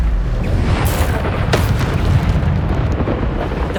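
Bombarda spell explosions in Hogwarts Legacy: a loud, continuous rumbling roar with sharper booming bursts cutting through it, dense and close.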